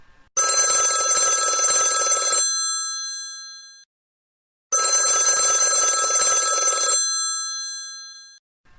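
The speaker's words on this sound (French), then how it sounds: "Mercredi, je reçois un appel téléphonique." A telephone rings twice, each long bright electronic ring lasting about two seconds and separated by a silent gap, loud and close with no voices.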